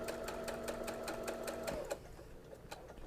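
A sewing machine fitted with a rolled hem foot sews over a fabric seam, its fast even stitching close and fairly quiet for about two seconds before stopping.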